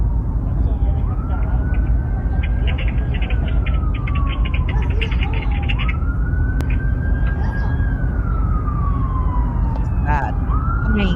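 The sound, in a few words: police sirens approaching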